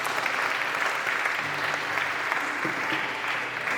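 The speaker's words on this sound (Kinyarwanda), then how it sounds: "reka dukomere Imana amashyi ku bwabo." A congregation at a church gathering in the USA applauds together, a thick, even wash of clapping from many people that holds steady throughout with no one speaking.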